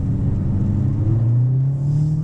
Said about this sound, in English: you can hear the CVT revving up again